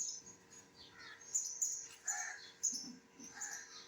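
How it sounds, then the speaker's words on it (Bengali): Several birds chirp and tweet in a large tree right beside a window in the morning, with bright repeated calls in short bursts, fairly close and clear, with no talking. "গাছের মধ্যে অনেক পাখির আওয়াজ পাওয়া যায় পাখির কলরব সকালবেলা থেকে শোনা যায়"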